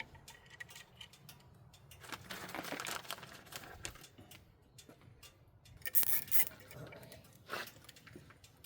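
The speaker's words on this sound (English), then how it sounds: "just put some zip ties on either side" Zip ties are ratcheted tight while a new horn bracket is mounted on a Hummer H3, giving quiet rasping clicks in short bursts with soft handling rustle between them; no one speaks.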